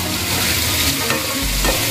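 Kashmiri red chilli powder and coriander powder fry hard in a pan for prawn fried rice, making a loud continuous sizzle with scraping stir sounds throughout.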